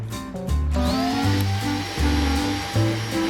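Roborock H7 cordless stick vacuum cleaner running steadily, a close, loud motor whine with a rising pitch as it spins up and a few brief changes in load, with no talking.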